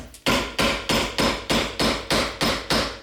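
A flat hammer strikes sheet metal to form a flange along a radius, giving nine loud, evenly spaced ringing blows at a steady rhythm, close and alone.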